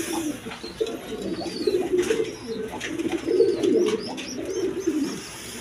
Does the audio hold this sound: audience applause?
no